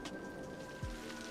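Rain falls steadily in the city-building video game Cities: Skylines, a soft, continuous hiss with a faint low thump, quiet and without voices.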